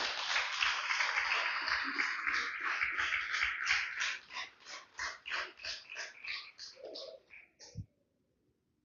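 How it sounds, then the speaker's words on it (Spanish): A church congregation applauds, with dense clapping that thins into scattered rhythmic claps and stops near the end, followed by a brief thump. "Denle un fuerte aplauso al Rey"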